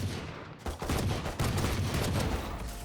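Gunfire in the video game Valorant, a dense rattle of rapid automatic shots and bursts that fills the moment, loud and sustained with no pauses.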